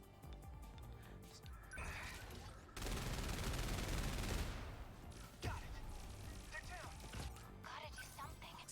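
Missiles launching and exploding in the game 13 Sentinels: Aegis Rim, a dense roaring barrage of blasts that swells to a sustained loud burst in the middle, with a player's voice talking over the chaos.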